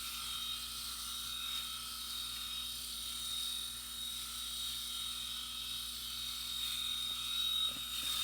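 A Skull Shaver Pitbull Platinum electric head shaver runs at a single steady setting, giving a faint, constant high whine and motor hum with no talking over it.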